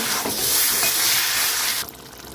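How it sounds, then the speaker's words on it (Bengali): Water pouring into chicken curry in a pan, a loud continuous rush with sizzling that cuts off near the end, leaving a quieter simmer. "জল দিয়ে দিচ্ছি"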